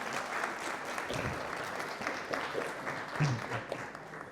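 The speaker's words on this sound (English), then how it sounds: "can you give a loud round of applause," Audience applause for the next Mayor of London at a motivational talk, a steady roomful of clapping held at an even level throughout, with a few louder bursts near the end.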